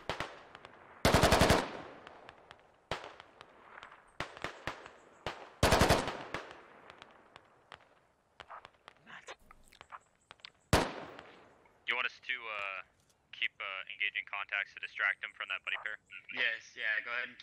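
Automatic gunfire in the Squad Ops tactical shooter, with loud sustained bursts early on, scattered single shots, and a sharp blast near the middle, followed by distant popping under talk and radio chatter.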